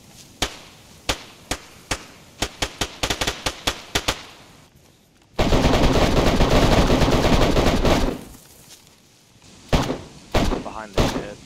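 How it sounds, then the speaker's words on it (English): Gunfire in the video game DayZ: a string of sharp, distinct shots at irregular intervals, then a loud sustained roaring burst, followed by a few more scattered shots, with voices talking alongside. "He's shooting something else."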